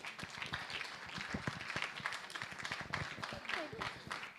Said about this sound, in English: A second round of applause.